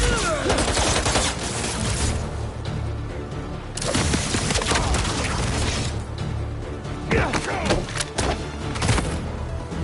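Dense gunfire volleys and booming impacts burst through Marvel's Spider-Man 2 combat, loud and chaotic in waves over about ten seconds.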